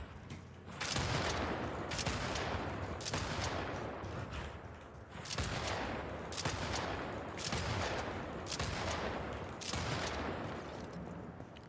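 Burst-fire gunshots in a video game, heard as a rapid series of sharp, loud shot clusters repeating at a steady rhythm throughout.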